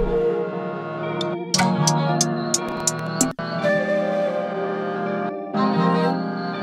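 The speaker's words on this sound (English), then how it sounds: "I'm automating the pitch plugin to go back to normal" A pitch-shifting plugin on a song breakdown is automated back to its normal pitch, leaving dense layered music with small digital glitches and sharp bright clicks, one brief dropout midway, loud and continuous with no talking.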